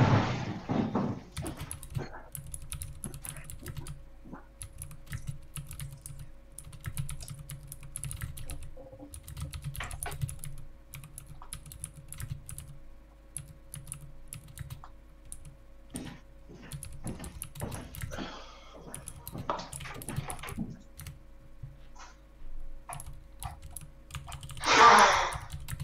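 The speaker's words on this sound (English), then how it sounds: "Keyboard." Computer keyboard typing, soft continuous key clicks in uneven runs under a low steady hum, with a short louder knock or thump near the end.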